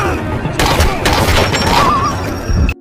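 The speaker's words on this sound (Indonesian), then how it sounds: "Dia terlibat aksi tembak-menembak dengan anak buah Red Mountain." A rapid gunfight from an action film, with dense bursts of shots and crashing impacts packed close together over a loud, busy soundtrack, cutting off abruptly at the end.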